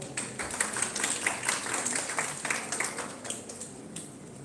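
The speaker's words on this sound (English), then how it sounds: "Let us welcome all Professor Devjani Mitra with a generous round of applause." Audience applause at a college event as a professor is welcomed, a steady, dense patter of many hands clapping at moderate level that holds for the whole span without any speech.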